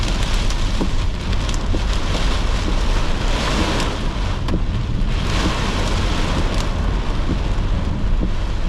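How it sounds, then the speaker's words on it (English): Hail pelts down during a thunderstorm in South East Queensland, a loud, continuous hiss and rattle of ice hitting surfaces, with scattered sharper impacts throughout. "Okay, I think we're starting to get some hail now."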